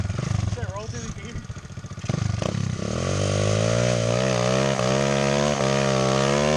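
A small pit bike engine revs hard, its pitch rising and dropping as it shifts through the gears, loud and close, with brief voices near the start.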